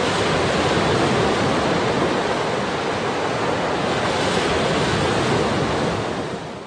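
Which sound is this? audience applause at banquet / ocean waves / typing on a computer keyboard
ocean waves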